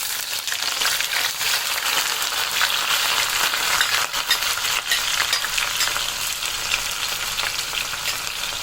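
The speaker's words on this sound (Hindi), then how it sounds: "तेल यहाँ पे गर्म हो चुका है तो मैं इसमें ये प्याज शामिल करती हूँ" Chopped onions sizzle steadily in hot cooking oil in a home kitchen pot while a vegetable pulao is cooked, a dense, even crackle that holds close and loud throughout with no talking.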